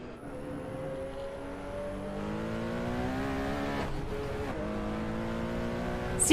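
Race car engine in Assetto Corsa, driven on the Nordschleife, revs steadily higher under throttle, its harmonics climbing, dipping briefly at a gear change, then rising again, loud and close throughout with no talk.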